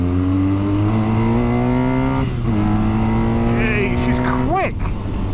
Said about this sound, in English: It's a BMW K1100.